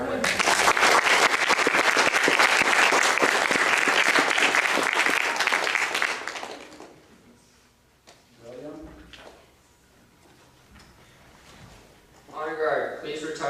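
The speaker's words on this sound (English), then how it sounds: "One more time, a round of applause for Robbie Martin." Loud sustained clapping from an audience at an Eagle Scout ceremony lasts about six seconds and then stops abruptly. Quiet room noise and murmuring voices follow.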